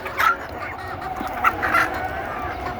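Native desi hens cluck on a farm after being let out of their coop, a few close, scattered clucks and short calls over a low steady background, with no talk.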